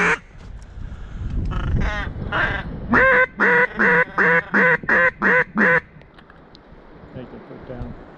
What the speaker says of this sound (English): Those are big ducks.